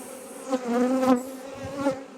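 A honeybee swarm working in its hive, a close, dense buzzing drone that rises and falls in short swells.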